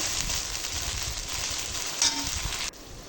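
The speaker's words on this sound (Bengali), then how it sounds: "এবার আমি ভালোভাবে একটু নাড়িয়ে নেব মশলাগুলোকে একটু ভালো করে হালকা করে কষিয়ে নেব" Ground spice paste frying in oil for vegetarian Bengali ghugni and being stirred: a dense, continuous close sizzle and hiss that drops off abruptly just before the end.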